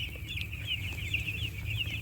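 A crowd of young chicks, one to four days old, chirps constantly in a rearing brooder. The thin, rapid peeps overlap near and clear above a soft low murmur, with no talking.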